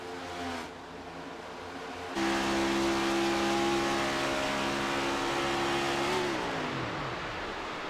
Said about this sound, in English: Again, cutting out his engine, if you just heard.